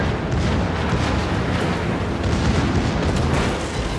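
A dense, sustained rumbling explosion roars for several seconds without letup as an enemy battleship sinks in World of Warships.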